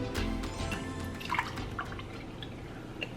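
Soda drips through a Grayl water filter bottle in a series of small, fairly quiet irregular drips and trickles, with no voices present.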